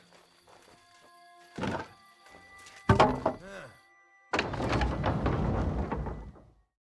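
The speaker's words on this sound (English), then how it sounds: "Now just to open that gate." A heavy gate opening in the video game Kingdom Come 2, a loud thunk followed by a long grinding, creaking rumble, with a brief voice and game sounds before it.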